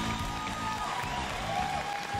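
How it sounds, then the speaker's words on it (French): An audience at the Bethesda E3 2018 conference applauds, a soft, steady patter of clapping heard faintly beneath a low hum of music and noise. "Se fait applaudir."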